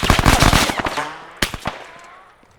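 The machine gun of a BTR armored vehicle in Arma 3 fires a rapid, loud burst of close shots, then a few separated shots that echo and fade into a long decaying tail.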